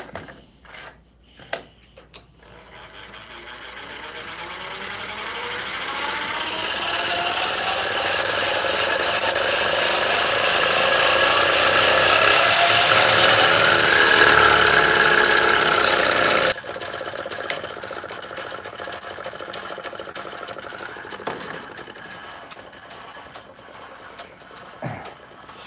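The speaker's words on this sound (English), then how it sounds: "This wheel here has a good RPM about it, so let's give it a test here." A pulley-driven wheel spins up in a test run, a broad rushing whir that builds steadily over several seconds, holds loud, then drops sharply and continues at a lower, rougher level.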